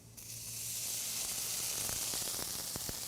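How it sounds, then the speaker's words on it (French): Garlic sautéing in a hot pan, a bright steady sizzle that swells in after a brief start and holds, with a few sharp pops and spatters, close and continuous, no voices. "On va la faire sauter un peu pour la cuire un peu."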